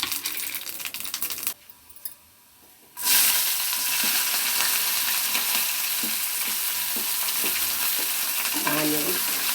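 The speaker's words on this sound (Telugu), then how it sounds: "ఆయిల్ వేసుకున్నాను, ఒక స్పూను జీలకర్ర వేసుకోవాలి" Cumin seeds crackling in hot oil, a bright close sizzle that drops away briefly and then returns strongly and continuously, with faint utensil taps.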